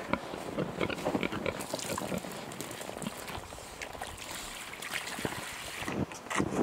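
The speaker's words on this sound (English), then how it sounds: "Pig slurping in the background." Wet slurping and gulping sounds from a pig drinking water come in bursts over steady wind-like noise, close to the microphone, with no talking, on a snowy homestead.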